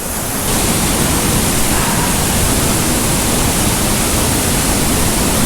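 Waterfall at a freshwater fishing spot in icy conditions with icicles forming, a loud, steady broadband rush of falling water filling the whole clip without letup.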